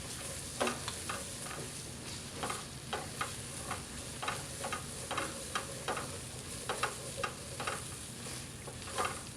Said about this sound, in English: we're gonna add our garlic, okay, and we're gonna saute that till it's nice and fragrant